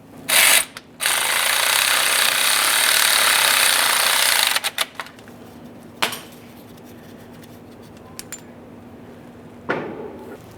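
Impact wrench loosening the 14mm idler pulley mounting bolt on an Acura MDX timing belt job, with a loud sustained rattling burst of about three seconds, then brief clicks and a couple of short bursts, up close with no talk.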